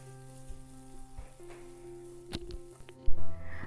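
Pumpkin greens with sugar sizzling in hot oil in a pan, a soft steady crackle with occasional sharper clicks and a louder stir near the end.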